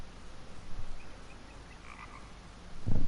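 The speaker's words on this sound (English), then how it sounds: "Another toad." A toad croaking in the survival video game Rust, heard as a faint, low repeated croak against steady ambient game noise, with a louder burst near the end and no talking.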